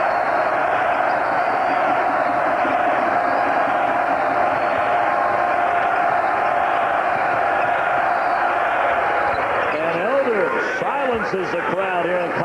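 A college basketball arena crowd at Maryland's home court in College Park roars in a sustained, dense wash of cheering, while a commentator's voice talks over it throughout.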